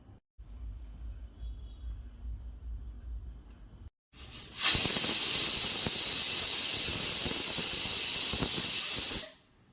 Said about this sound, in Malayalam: ഇനി ഇത് ഗ്യാസിൽ വെച്ച് ഒരു 4 വിസിൽ കേൾക്കുന്നിടം വരെ നമുക്ക് വെയിറ്റ് ചെയ്യാം.